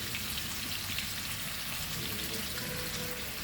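Onion with lime juice cooks on a high flame, giving a steady hiss and crackle of frying that carries through the whole stretch without talk.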